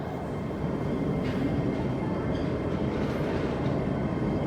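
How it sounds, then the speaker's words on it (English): An MTR M train passes through Tai Koo Station, a steady, fairly quiet low rumble of wheels on rail with a few faint higher squeals along the way. "Another M train"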